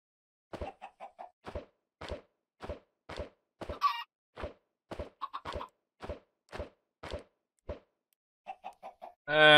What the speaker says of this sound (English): let's see if we can get some chickens out of these eggs